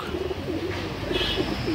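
Fulshira pigeons cooing in a loft, soft low repeated coos with a steady murmur of other birds close by, no talking.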